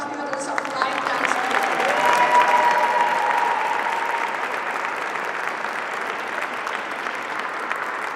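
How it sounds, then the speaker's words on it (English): Sustained applause from an audience at a Lunar New Year celebration in City Hall, honoring high school lion dance students; steady, dense clapping that swells slightly around the middle and then continues evenly. "Let's give a round of applause to the high school students of Lion Dance."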